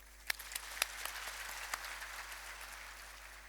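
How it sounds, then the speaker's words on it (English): An audience at a ceremony applauds a newly honored professor, a spread of light, scattered claps heard from a distance in a reverberant hall, soft and thinning out over a few seconds. "let me ask the gathering just to applaud his professorship, Professor Tsagao Fente"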